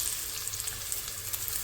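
Chopped medium onion frying in hot oil for a Pakistani-style achari chicken, a steady soft sizzle that hisses on without pause, low and close, with no voices.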